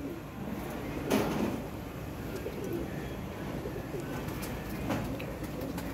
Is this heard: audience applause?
no